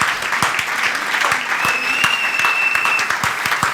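Church congregation applauding to acclaim Jesus during a French-language sermon, a dense burst of close clapping that holds steady for several seconds, with some cheering voices mixed in.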